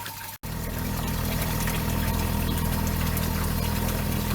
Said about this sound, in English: The compressor is now working